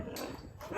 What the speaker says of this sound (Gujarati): એક કૂતરી ને કૂતરા જોઈ